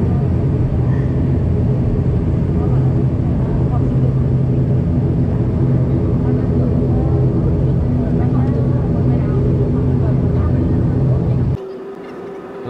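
Inside the cabin of an ATR72 turboprop airliner, the engines drone loud and steady with a low throbbing hum, then drop sharply in the last second.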